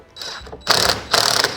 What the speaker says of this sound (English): We take our high precision DeWalt tool, put it the right direction,